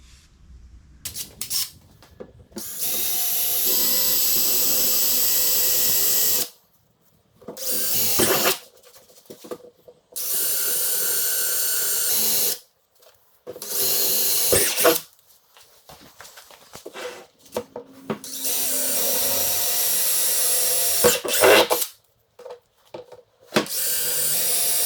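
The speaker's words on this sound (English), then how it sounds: "So we have our luggage compartment drilled." A power drill bores holes in a four-wheeler's luggage compartment during a backrest install, running in several long, loud, steady bursts separated by short pauses of near silence, close to the listener.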